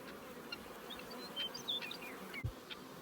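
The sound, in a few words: honeybees buzzing around beehives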